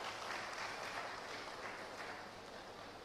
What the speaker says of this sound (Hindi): एक बार जोरदार ताली बजाकर पूज्य महाराज जी का हम लोग अभिनंदन करते हैं।